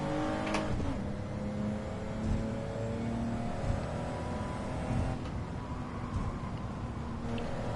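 A twin-turbo Mitsubishi car engine in the Gran Turismo racing game drones steadily under load, with its pitch rising and shifting as it revs through gears. The engine stays continuous and moderately loud, with no voices over it.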